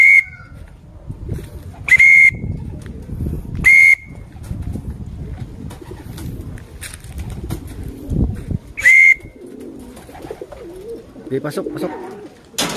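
Racing pigeons arriving back at their loft after a race from Antipolo to La Union, with several bright, short whistle-like calls and soft cooing over nearby rustling and ongoing conversation.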